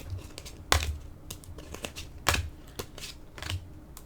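Oracle cards shuffled by hand during a love reading, giving a few quick papery riffling bursts spaced through the moment, close and fairly soft, with no talking.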